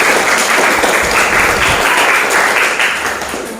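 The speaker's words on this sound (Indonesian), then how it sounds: "Bagi tepuk tangan dulu buat kelompok." A classroom of students applauds the presenting groups after their project presentations, a dense, steady wash of clapping from many hands that stays loud throughout and tapers slightly at the end.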